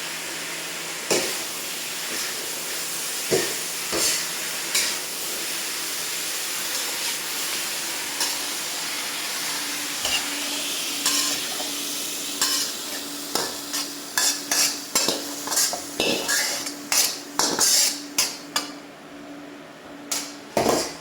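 Curry is stirred into sauce in a sizzling wok on an induction burner. A steady hiss of frying sits under sharp scraping and clacking strokes that grow quicker toward the end.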